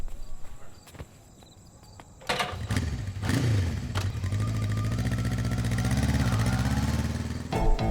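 A motorcycle engine catches after a few quiet clicks and thumps, then revs up and holds a loud, steady running drone nearby for several seconds during a chase.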